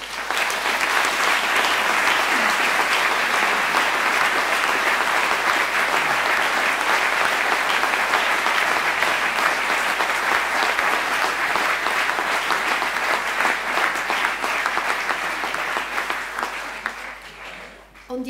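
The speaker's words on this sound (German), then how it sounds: "Und denen gehört von mir aus gesehen eben auch mal ein riesen Applaus" Long, loud applause from a gathered crowd at an Olympic homecoming reception by a lake club, honoring the coaching staff, family and friends; dense continuous clapping for most of the stretch, tapering off near the end.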